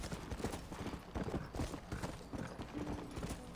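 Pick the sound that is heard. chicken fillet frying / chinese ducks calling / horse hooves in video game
horse hooves in video game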